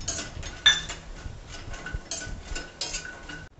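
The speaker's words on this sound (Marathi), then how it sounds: "त्याच कढईमध्ये आपण आता हलकेसे मखाणे भाजून घेऊयात।" A spoon stirs and scrapes makhana as they roast in a kadai over a low flame, producing a run of light metallic clinks and scrapes, one sharper knock near the start, with no voices.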